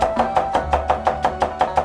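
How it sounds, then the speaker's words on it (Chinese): Knife chopping garlic finely on a cutting board for a home-style Sichuan dish, a steady run of about ten evenly spaced, close, crisp chops with no talk. "大蒜撇破了剁细"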